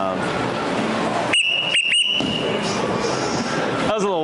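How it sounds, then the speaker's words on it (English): A sharp, piercing whistle blown as a distraction during a bowling match, a few short bursts in quick succession up close over steady alley noise and background chatter. "That was a little whistle."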